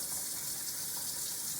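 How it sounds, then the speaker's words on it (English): A water tap runs steadily for hand washing, giving an even, close hiss of flowing water with no talk over it. "Go ahead, turn your water on."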